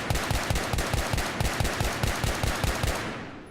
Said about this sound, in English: here's the M417 with the foregrip,